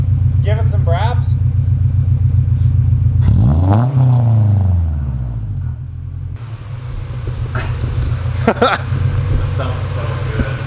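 A Volkswagen Golf R fitted with a cold air intake idles with a deep, steady rumble, then climbs through one sharp rev that swells and falls back. Voices can be heard at the start over the close, loud engine.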